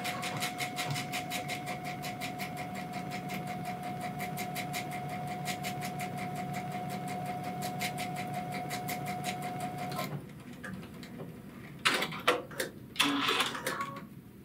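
Baby Lock Chorus serger sewing a stitch, a fast, steady mechanical whirring hum that runs for about ten seconds and then stops, followed by a few brief clicks and handling noises.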